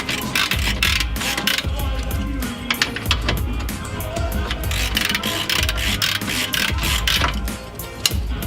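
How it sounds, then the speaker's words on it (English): A wrench ratchets while loosening a power steering rack bolt on a BMW E30, giving rapid repeated metallic clicks in close, steady bursts. "we're gonna hold that bolt steady while we loosen up the power steering rack bolt"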